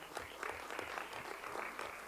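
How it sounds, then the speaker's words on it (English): Applause from an audience at a school board meeting: a steady patter of many hands clapping, fairly soft and distant, sustained throughout without a break. "We'll keep clapping."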